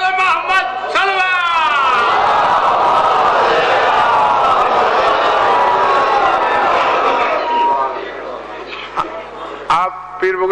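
A large crowd at a religious gathering chants slogans together, a loud sustained roar of massed voices lasting most of the clip, with shorter shouted bursts at the start and end.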